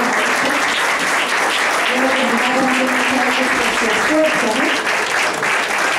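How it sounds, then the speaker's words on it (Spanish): Church congregation applauding during a Spanish-language missionary service, a steady dense wash of clapping with voices calling out and talking over it throughout. "Un aplauso para los que van a invitar"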